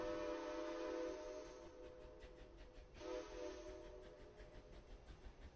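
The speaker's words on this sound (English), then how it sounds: "Notice how, as the train's whistle moves closer, the noise gets louder." A train whistle blows as a steady, multi-toned sustained blast, loudest at first, swelling briefly again midway and then holding at a moderate level over a faint rumbling background.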